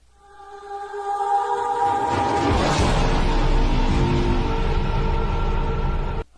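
A sound effect taken from the Call of Duty video game, a dense, swelling burst with a few sustained tones underneath, loud and continuous for about six seconds before it cuts off abruptly.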